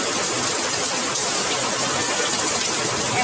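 Heavy rain pours in Bangalore as a dense, even roar of rainfall that stays loud and unbroken throughout, with no voices.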